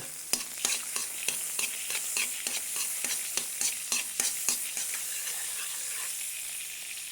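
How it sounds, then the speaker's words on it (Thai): Butter melts and sizzles in a pan for a carbonara, with a steady frying hiss broken by regular sharp scrapes and taps of a spatula stirring, close and uninterrupted by talk. "ขั้นตอนผัดใส่เนยครับ แล้วก็ข้นให้เนยละลาย"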